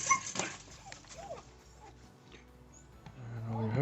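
Dogs behind a chain link gate whimpering and yipping in short, thin cries, moderately close, with someone talking intermittently and some metallic clatter from the gate.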